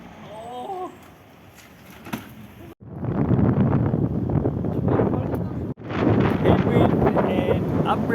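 Wind roars loudly and steadily across the microphone while cycling into a headwind along a river on the Alpe Adria route, towing a wheelchair, with a brief quieter stretch and a voice at the start before the gusts take over.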